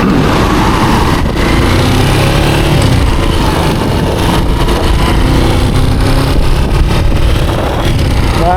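A motorcycle, a DMX, ridden solo at night, giving a loud, continuous engine drone and rushing wind noise close to the mic, steady throughout with no talking.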